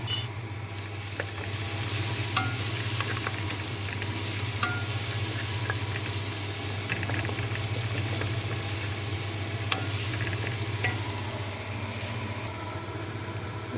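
Garlic is stirred and fried in oil for a vegetable soup, a steady close sizzle running throughout with a low constant hum beneath and occasional light scrapes of stirring.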